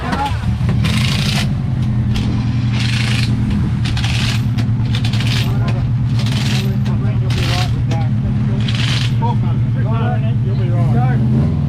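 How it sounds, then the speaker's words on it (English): A rally car at a forest rally service park running loudly with a deep, steady engine drone close by, while mechanics talk and shout over it and short bursts of tool and rustling noise cut in. "Start the car."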